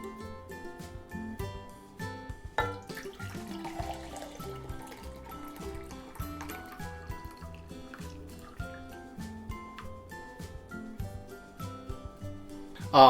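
Strawberry kulfi milk mixture is poured from a pot into a pour-spout container, a steady close liquid stream with small splashes and drips running throughout, no talk.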